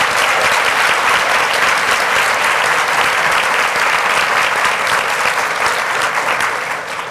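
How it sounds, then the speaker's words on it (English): Sustained, dense round of applause from an audience at a business awards event honoring influential women, loud and steady throughout, tapering slightly at the end. "Let's give each of the women we're honoring today a great round of applause."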